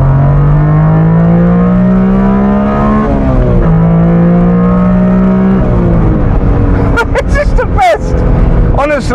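A 1992 Honda Beat accelerates flat out, the engine note climbing loud and close through rising revs with brief gear-change dips, and a voice speaks over it near the end.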